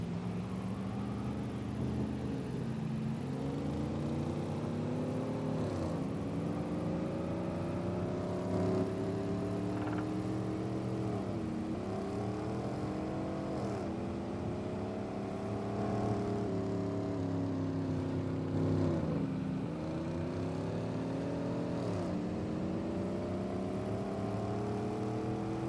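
Fire engine red Dodge Ram truck with a charger in a driving game, its engine droning continuously and rising and falling in repeated rev sweeps, steady and fairly loud with no talking.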